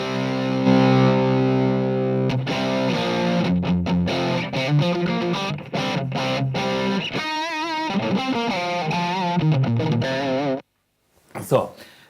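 Distorted electric guitar with single-coil pickups played through an AmpX amplifier, sustained chords then busier riffing with a vibrato-laden bend, loud and close, cutting to near silence before a brief final strum.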